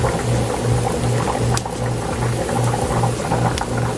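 Caraille sizzles steadily in hot oil in a wide pot, a dense, continuous crackling hiss close up with no pauses.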